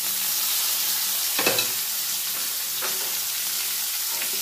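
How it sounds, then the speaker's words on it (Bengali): Cut potatoes and cucumber frying in hot oil with onions in a pan, a loud, steady sizzling hiss broken by a few scraping stirs of a spatula, close and without talk. "নাড়াচাড়া করে আলু আর শসাটাকে কিছুক্ষণ ভেজে নেব।"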